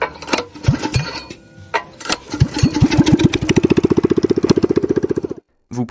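A motorcycle engine is kicked or cranked with a few sputtering coughs, then catches and runs in a fast, even, loud thumping idle for a few seconds before cutting off abruptly.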